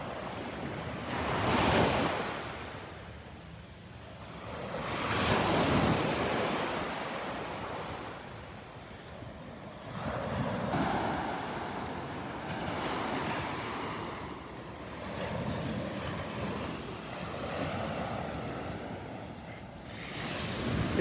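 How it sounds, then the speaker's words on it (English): Ocean waves break on a beach at Delnor-Wiggins, rising and falling in slow surges every few seconds with wind noise across the microphone and no talking. "These are the kind of waves I like."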